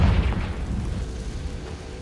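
A Confringo fire spell from Hogwarts Legacy detonates in a deep, booming blast that opens the moment loudly, then settles into a rumbling low-end tail that gradually fades.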